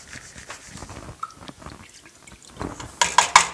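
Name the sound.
pouring a cup of broth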